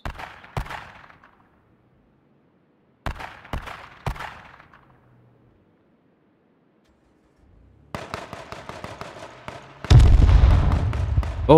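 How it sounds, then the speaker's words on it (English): Several sharp blasts pop and crackle in bursts separated by quiet gaps in H1Z1 King of the Kill, ending in a loud, sustained roaring explosion rumble. "there was an explosion."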